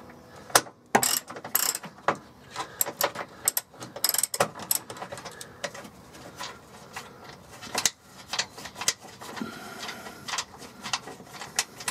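A ratchet loosening bolts during an oil change on a Fiat 500, rapid clicking pawl bursts in uneven spurts with pauses between, close and fairly loud, with no voices.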